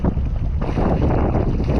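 Strong wind buffets the microphone on a small boat out on a rough, wild sea, a loud continuous low roar with gusty rumble and no voices.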